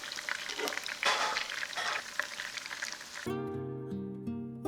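Tofu fries in hot oil with a soft, steady sizzle for about three seconds, then music takes over.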